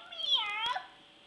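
A young girl imitates a kitty's meow, one clear, close, rising and falling mewing call about a second long, with a quiet room behind it.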